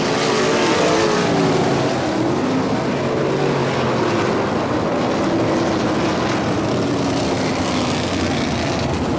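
Loud, unbroken roar of 360 sprint cars racing at Ohsweken Speedway, multiple engines blending into a dense, steady howl with shifting pitch as they circle the track.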